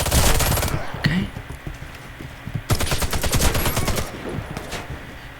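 Rapid automatic rifle fire in the online shooter Warface, two long loud bursts of closely spaced shots with a quieter gap between, close and dominant throughout.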